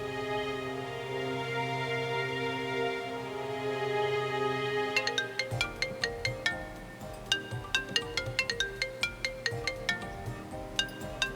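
A phone ringtone plays a sustained melodic tone for several seconds, then shifts to a rapid series of sharp plucked chiming notes in a bright repeating pattern, moderately quiet with no talk over it.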